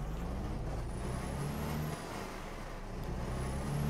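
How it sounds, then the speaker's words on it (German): A Mercedes LPS 1632 truck in Euro Truck Simulator 2 settles into a steady low diesel idle after ignition, with rising whine tones and brief air-hiss sounds over the constant engine rumble. "Licht an, Zündung."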